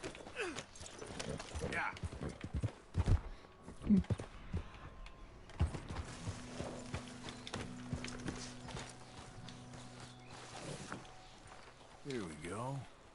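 Horse hooves clip-clopping while riding in Red Dead Redemption 2, a steady rhythmic trot under a voice and ambient game sounds, with a brief whinny near the end.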